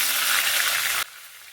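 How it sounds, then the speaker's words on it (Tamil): Raw plantain sautéing in oil tempered with curry leaves and asafoetida makes a loud, close, hissing sizzle that cuts off sharply after about a second, leaving a faint quieter hiss. "வாழைக்காய் 3 நிமிஷம் வதக்கிக்கலாங்க."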